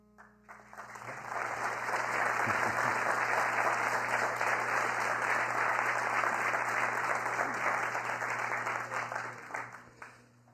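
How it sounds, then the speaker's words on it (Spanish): An audience at a university event in Colombia on audiovisual production applauds after a film promo. Clapping swells quickly into a dense, even roar, holds for about eight seconds, then fades out. "este promo de la película era una trampa para sacarles un aplauso"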